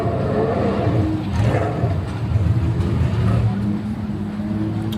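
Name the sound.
race cars driving at COTA race day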